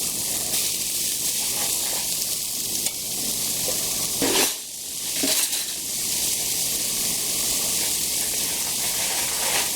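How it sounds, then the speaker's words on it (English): Garlic sizzles in hot grease in a frying pan, a loud continuous crackling hiss with a brief dip midway as it's stirred, no talking. "Oh, it's sizzling."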